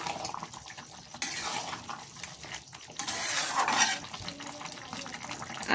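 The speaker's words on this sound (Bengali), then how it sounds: "দেখুন জলটা দিয়ে দিচ্ছি" Water poured into a pan of cooking pea ghugni, a soft splashing and trickling with light clinks of utensils against the pan, close and fairly quiet.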